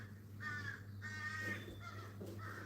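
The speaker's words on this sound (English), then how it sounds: "Oh, little crows are going crazy out there." Several crows caw outside in short repeated bursts, fairly faint and distant over a steady low hum, with no talking.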